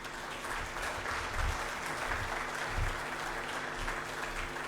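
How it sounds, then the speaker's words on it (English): A crowd at a launch event at the Pyramid of Tirana claps in steady, dense applause that holds for several seconds, with low rumbling thuds and a faint murmur of voices underneath. "Let's all thank the speakers with another round of applause."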